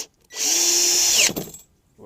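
A power drill drives bolts into a Gorilla cart during assembly, one loud close whine of about a second that rises, then drops off abruptly as the bolt seats, with near silence before and after.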